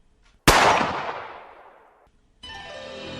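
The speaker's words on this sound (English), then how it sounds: "she raised the musket again, and pulled its trigger. It went bang!" A single loud musket shot cracks out sharply and rings off in a long decaying tail for about a second and a half, followed after a short silence by a different bright, sustained tone; no speech is heard.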